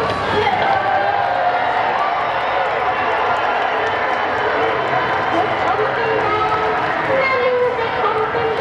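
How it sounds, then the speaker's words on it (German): Large carnival crowd at the Lucerne Fasnacht clapping and cheering steadily outdoors, a dense continuous wash of applause with voices mixed in throughout. "Gebt doch zum Schluss als Ergebnis noch einen riesen Applaus."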